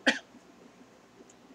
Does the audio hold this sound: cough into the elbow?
yes